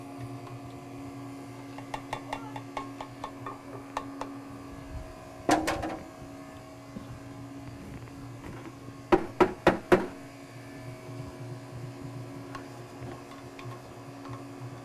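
A machine churns Oreo cookie ice cream, giving off a steady mechanical hum with light ticking, and louder knocks come in short bursts, probably cookie pieces tumbling in the barrel.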